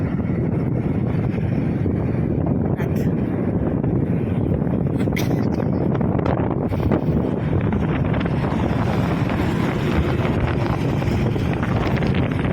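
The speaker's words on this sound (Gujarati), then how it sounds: "જુનાગઢમાં પવન છે ઠંડો ઠંડો" Cold night wind at the foot of Girnar in Junagadh buffets the microphone with a constant low roaring rumble that never lets up, with no voices.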